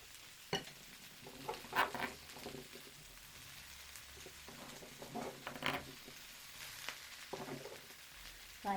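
Celery stirred into tofu and yellow bean sauce in a pan makes faint, irregular scraping and wet clattering, with scattered louder knocks and a light sizzle throughout.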